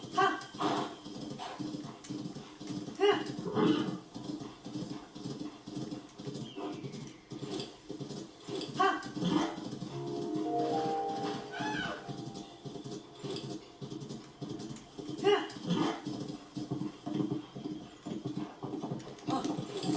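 Rhythmic horse hoofbeats in Zelda: Tears of the Kingdom clip-clop steadily at a moderate distance, with a brief snort or whinny midway, fairly quiet overall.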